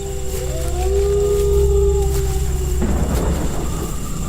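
Strong storm wind howls through a village at night in an animated horror story. It builds as rising, wavering moans, then breaks into a loud rushing gust with a deep rumble, steady and close throughout.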